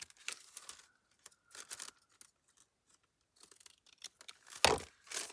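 Scissors snipping through paper while an envelope is made by hand, giving crisp close cuts in short clusters with pauses between them and a louder crunching snip near the end.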